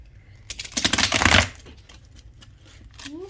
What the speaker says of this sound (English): I have 2 decks that are hard to shuffle this time around.